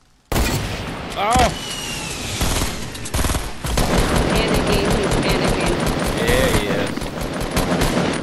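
Rapid video game gunfire and explosions crackle in dense bursts throughout, with a loud blast partway through, while a player's voice exclaims briefly over the action.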